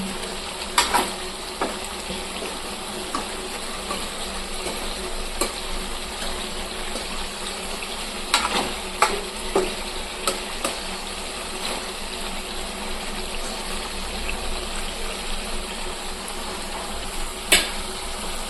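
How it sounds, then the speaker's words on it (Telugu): A pan of chicken curry gravy with tomatoes simmers steadily, a soft continuous bubbling and light sizzle with a few sharper clicks and stirring sounds, heard alone without talk. "టమాటాలు ఉడికే కొద్దీ గ్రేవీ కొంచెం ఎక్కువ వస్తుంది"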